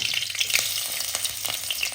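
Chopped green chilies fry in hot coconut oil, giving a dense, steady crackling sizzle, loud and close, with faint stirring underneath.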